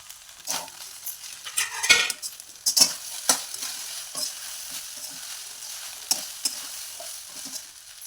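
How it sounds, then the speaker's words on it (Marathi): Sabudana khichdi with boiled potatoes and crushed peanuts gets stirred in a pan: a close series of scraping, clinking spoon strokes over a faint background sizzle, irregular in rhythm, with no voices. "असं छान हलवून घ्यायचं आपण याच्यामध्ये बटाटे उकरून जास्त टाकलेले शेंगदाण्याचा कूट टाकायचा"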